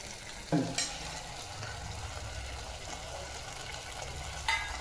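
Spices, homemade black masala, red chilli powder and turmeric being sautéed in a pan for paneer masala, giving a low steady sizzle with a few sharp spoon clacks against the pan near the start and end.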